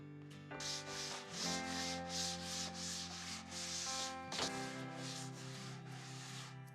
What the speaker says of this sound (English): After the stain dried, I sanded it really lightly, just to give it a slight used look